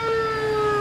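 A police car siren wails steadily with a sustained high electronic tone, loud and close, heard alone without talking.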